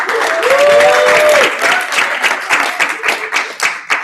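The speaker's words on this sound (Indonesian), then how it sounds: "Tepuk tangan dulu dong." A crowd breaks into applause, loud and dense at first and then thinning into scattered claps, with a brief voice over the start.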